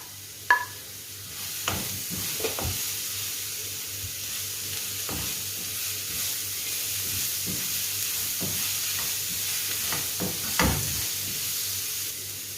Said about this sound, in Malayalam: നന്നായി അതിൻ്റെ പച്ചമണം മാറുന്ന വരെ നമുക്ക് ഇളക്കി കൊടുക്കാം